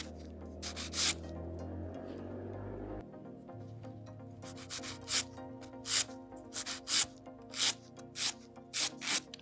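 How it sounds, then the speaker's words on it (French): An acrygel/polygel nail shaped into an almond form is filed with a nail file: repeated short rasping strokes come in a quick, steady rhythm, close and fairly clear, with no talking. "Donc on lime un petit peu pour que ce soit bien régulier et bien symétrique surtout"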